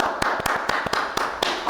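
A few people clap in a podcast studio, sharp distinct slaps about every quarter second over a noisy background, sounding sparse and close rather than like a large crowd.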